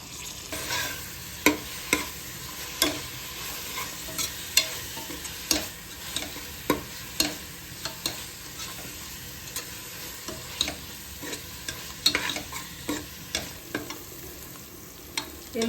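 Ginger garlic paste, mint and coriander fry in a pan for country chicken biryani, with a soft continuous sizzle and frequent irregular scraping and clinking stirs from a spoon.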